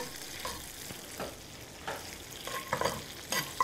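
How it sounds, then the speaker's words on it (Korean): Butter sauce with lemon juice simmers in a pan on low heat while being stirred and skimmed of foam. A soft steady sizzle runs throughout, with scattered scraping taps of the utensil, close and fairly quiet. "레몬즙을 넣고 거품을 걷어내면서 버터 소스를 완성을 하겠습니다."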